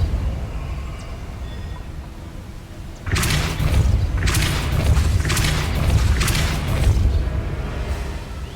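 A Depulso spell cast in Hogwarts Legacy, a sudden loud whooshing blast that sets off a stretch of rumbling, pulsing bursts after a quiet, ambient start.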